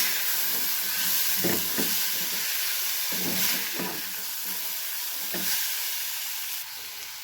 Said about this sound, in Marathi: आपण जे बिया भिजवलेल्या आहेत तर ते ॲड करायचे आणि मिक्स करून घ्यायचं व्यवस्थित